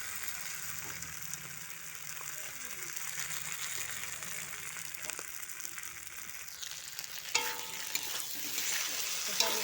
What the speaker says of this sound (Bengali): মাংসটা কষাকষি হয়ে যাচ্ছে